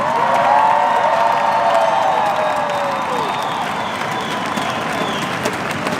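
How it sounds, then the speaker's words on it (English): Loud, sustained audience applause for dancers at a real estate expo in Austin, Texas fills the space, with cheering and a few whoops rising over the clapping before it gradually eases. "please give a big round of applause to the dancers"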